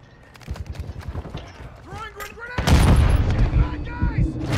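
Gunfire in Call of Duty: Modern Warfare II during a Kill Confirmed match, with a rapid string of shots, then a louder, heavier volley of booming fire as a player talks over it.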